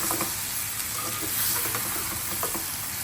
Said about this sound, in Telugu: మసాలాలో వంకాయ బాగా మగ్గాలి ఆయిల్లో